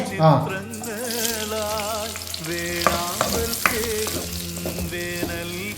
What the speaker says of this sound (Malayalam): എണ്ണ ഒഴിക്കുന്നേ കിഴങ്ങ് പച്ചമുളക് സവോള വരട്ടി എടുക്കാമേ